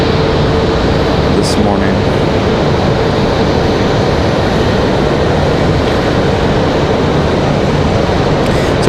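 An airliner on a flight from Miami arrives at Raleigh-Durham airport, a loud, steady broadband jet roar holding at constant strength throughout, with a short spoken phrase near the start.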